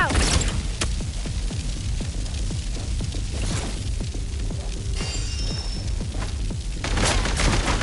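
Chaotic video-game combat: dense overlapping gunfire and booming blasts, including a frag grenade going off, rolling continuously and loudly throughout the battle.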